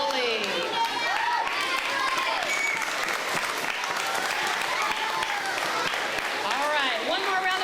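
A crowd applauds the recycling court at an elementary school Arbor Day celebration, with steady clapping mixed with children's excited shouts and cheering voices throughout.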